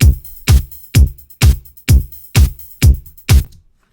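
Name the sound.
electronic drum kit playing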